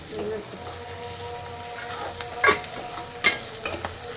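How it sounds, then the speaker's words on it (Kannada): Chili peppers and cinnamon stick frying in a pan, a steady close sizzle of hot oil with occasional louder stirring scrapes, while people talk faintly in the background. "ಮೆಣಸಿನ್ಕಾಯಿ ಅವ ಚಕ್ಕೆ ಹಾಕಿದ್ದೀನಿ"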